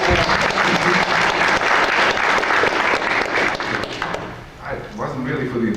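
Conference audience at a 1994 space development gathering in Toronto breaks into sustained, loud applause for a speaker, with crowd murmur underneath and a voice beginning to talk as it subsides.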